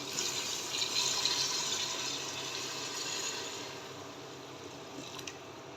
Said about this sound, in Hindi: तो ये गया जी इसके अंदर गर्म पानी